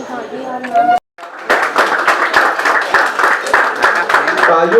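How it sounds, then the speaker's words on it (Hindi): Students in a classroom break into dense, continuous applause after a brief silence, loud and close, with voices mixed in over the clapping. "तालियों की गुंज कमी नहीं होनी चाहिए।"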